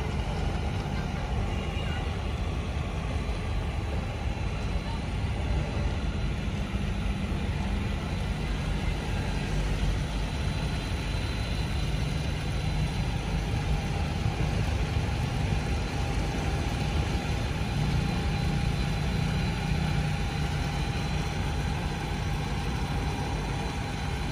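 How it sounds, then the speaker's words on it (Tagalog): A tractor working on the dolomite sand at Manila Bay's Dolomite Beach, a continuous low engine drone that stays even and fairly distant throughout, mixed with outdoor background noise. "Umaarangkada nga po itong makinarya, itong traktora dito sa Manila Bay, Dolomite Beach po."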